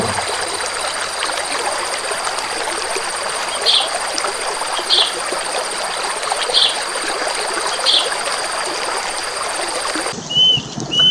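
A waterfall rushes in a steady, dense wash of falling water, with a few small bird chirps spaced out above it.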